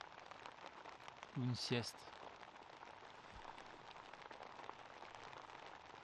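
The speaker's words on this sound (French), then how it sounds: "C'est le son de la pluie, soit sur le toit ou la toile de la tente." Rain falling on a tent roof and canvas in a remote Savoie valley: a steady, soft patter of drops throughout, with a voice speaking briefly near the start.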